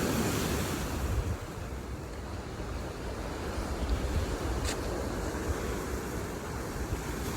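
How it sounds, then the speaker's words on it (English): Surf rolling onto a black sand beach in the Canary Islands, a continuous loud wash of breaking waves mixed with wind rumble against the microphone, with no voices. "This is a black sand beach right here."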